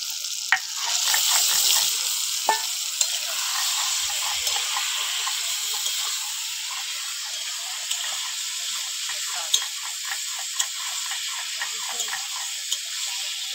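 Boneless chicken pieces dropped into fried curry spices sizzle steadily in the pan, a continuous close hiss with scattered pops and stirring clinks throughout.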